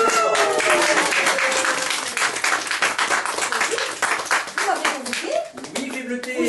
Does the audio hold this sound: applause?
yes